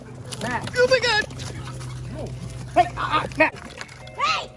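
Farm dogs bark, yip and whimper at goats in short close bursts, mixed with people shouting over them.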